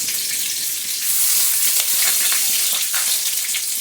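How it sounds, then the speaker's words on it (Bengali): Cloves, a small cinnamon stick, black peppercorns, bay leaf and cumin seeds crackle in hot oil, a dense, close, continuous sizzle with brief popping swells and no voices. "3টে লং, একটা ছোট্ট দারচিনি স্টিক, 4-5টা গোলমরিচ, তেজপাতা, আর দিয়ে দেবো জিরে ফোড়ন"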